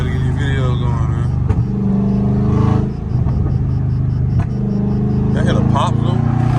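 A loud Scat Pack Charger rumbles in traffic with sharp exhaust pops cracking out over the engine's drone, while people talk over it throughout.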